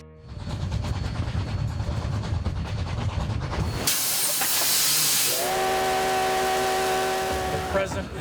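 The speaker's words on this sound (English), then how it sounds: "A coal-fired steam train rumbles through the wide-open prairie of the American West." A coal-fired steam train rumbles along across open prairie, then a loud burst of hissing steam erupts, followed by a long, steady steam whistle.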